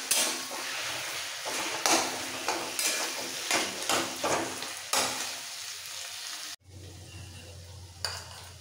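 Fried hilsa fish heads are sautéed in a sizzling pan, with repeated close scrapes and knocks of a spatula over a steady frying hiss. The sizzle drops suddenly near the end to a quieter, low simmer, and there is no talk.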